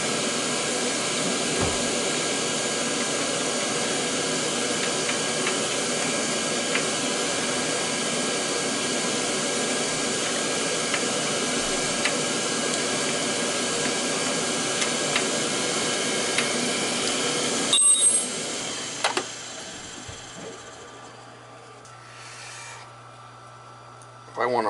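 A Beckett AFII oil burner fires steadily during a combustion test on a service call, a loud, even roar that runs for some eighteen seconds before cutting off and leaving a faint hum.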